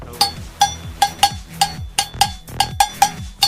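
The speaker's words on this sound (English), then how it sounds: "Can we hear another cowbell solo?" A cowbell is struck repeatedly alone, about a dozen bright metallic clanks at a loose, uneven rhythm.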